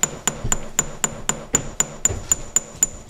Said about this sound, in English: now what I'm doing is hammering those little balls flat to become petals